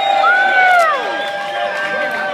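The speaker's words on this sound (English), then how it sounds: "Give him a round of applause." A crowd at a live show at Sky High for Hudson Terrace cheers and applauds, loud and sustained, with whooping voices rising above the general roar of the audience.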